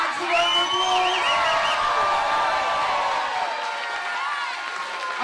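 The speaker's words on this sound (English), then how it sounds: "Can you give Hacks a round of applause?" A crowd at a chilli eating contest during a chilli festival, loud sustained cheering, whooping and shouts with applause mixed in, several voices yelling over one another before it eases slightly.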